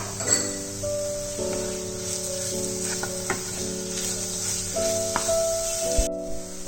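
Turmeric and spices frying in oil, giving a steady, soft sizzle and hiss over about seven seconds with a sustained musical tone underneath.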